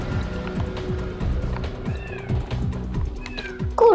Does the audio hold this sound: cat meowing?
yes